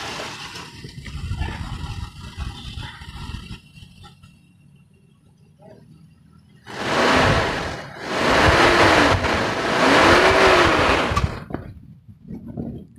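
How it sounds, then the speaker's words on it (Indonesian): A 1995 Toyota Kijang KF 52 engine is revved in three or four loud, close bursts, each swelling and falling back, following a quieter stretch of idling. "Suara Kijang itu kalau digeber emang suaranya masih smooth gitu, masih lembut."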